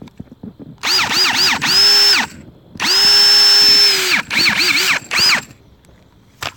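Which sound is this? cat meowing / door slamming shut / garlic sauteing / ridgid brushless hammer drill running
ridgid brushless hammer drill running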